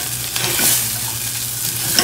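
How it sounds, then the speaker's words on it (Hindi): Cauliflower and coriander fry in a pan with a steady, close, loud sizzle and crackle that holds evenly throughout, with no voices over it. "अच्छे से फ्राई होने देते हैं"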